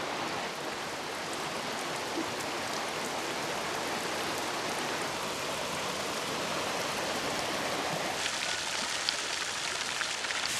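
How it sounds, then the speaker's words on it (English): Heavy monsoon rain pours steadily across the Outback during flood season, a dense, continuous hiss of falling water that stays even and unbroken, with no voices. "The monsoon rains are heavy now, and floodwaters rise and spread."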